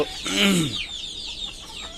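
Chickens on a poultry farm cluck, with a loud close squawking call near the start and fainter clucks trailing off behind it.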